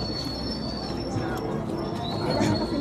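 Birds cooing and chirping over a steady, noisy outdoor background, with people talking nearby.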